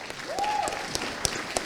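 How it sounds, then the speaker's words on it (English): Brief, scattered clapping from an audience at a gaming tech festival presentation on computer mice, fairly faint with a few sharper claps standing out. "give him a round of applause, ladies and gentlemen"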